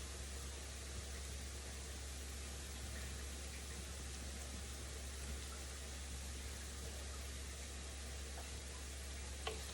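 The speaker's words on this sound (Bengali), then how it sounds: "এখানে দেখতে পাইতেছেন আমি পোলাও বসাইছি হাড়িতে" Pilau (polao) cooking in a cooking pot on a home stove gives a steady, even sizzle and bubbling hiss that continues without a break, fairly quiet and close, with no voices.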